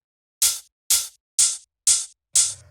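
Five evenly spaced strikes of a hard-hitting house hi-hat sample played with no low-pass filter, each bright, sizzly and full-bodied before a short decay, heard alone.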